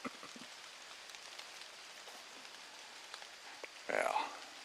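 Steady rain pattering on leaves and ground in a forest during a hunting opening weekend, a continuous soft patter with scattered drops, joined near the end by a brief louder rustle.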